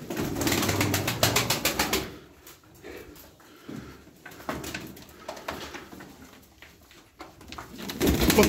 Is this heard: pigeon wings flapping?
yes